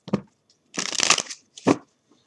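Three short bursts of tarot cards being riffled and shuffled close by, the middle one longest, with brief silences between them.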